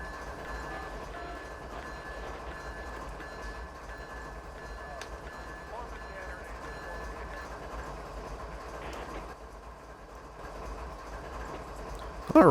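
A CSX locomotive sits stopped in a siding in the Train Simulator 2020 game, with a faint, steady low engine rumble and soft mechanical hum continuing throughout.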